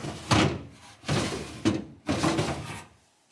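Crisper bin drawers on a Kenmore 61219 kitchen refrigerator sliding out and back, heard as three close, fairly loud sliding-and-thunking strokes of about half a second to a second each, with short gaps between them.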